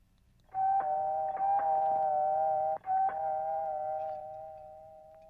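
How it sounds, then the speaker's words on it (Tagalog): A doorbell rings in a house, a steady two-tone chime sounding clearly, cutting off briefly and ringing again before fading out. "Doorbell mo."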